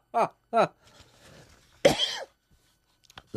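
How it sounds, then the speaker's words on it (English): Two short sharp coughs, then a longer throaty cough with a rasping tail, followed by quiet breaths and a few faint clicks. "that made me cough."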